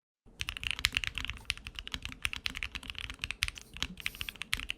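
Rapid typing on a budget custom mechanical keyboard, a dense stream of crisp, clacky keystrokes recorded up close, with no voices.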